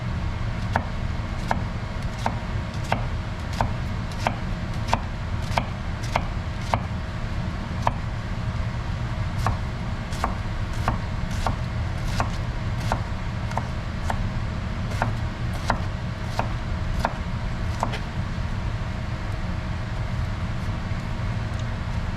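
A Yaxell Zen utility knife chops food on a board in a steady series of sharp, evenly spaced taps, close and clear over a low background rumble, with no talk.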